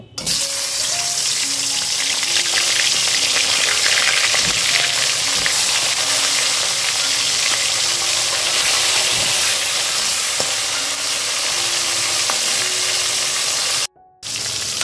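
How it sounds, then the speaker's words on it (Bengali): Hilsa fish heads frying in hot oil give a dense, continuous sizzle and crackle that stays loud and even throughout, with a brief cut to near-silence near the end. "এবার আমি ইলিশ মাছের মাথাগুলো একটু ভেজে নেব।"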